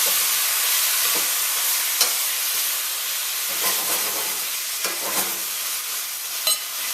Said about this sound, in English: you'll want to move it around just to pick up all those flavors and color from the bottom of the pot.